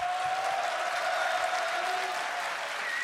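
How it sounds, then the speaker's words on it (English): Applause at a League of Legends World Championship 2015 post-match interview, a steady wash of clapping from a crowd holding evenly for several seconds, with a faint tonal hum running beneath. "And receiving the applause from the guys here as well."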